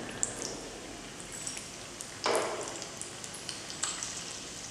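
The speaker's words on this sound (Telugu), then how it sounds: "ఆయిల్ వేడెక్కిన తర్వాత కొద్దిగా శనగపప్పు, కొద్దిగా మినపప్పు వేసుకోవాలి." Chana dal and urad dal frying in hot oil for a peanut chutney tempering, a soft steady crackle and sizzle with a brief louder burst of spattering partway through, no talk.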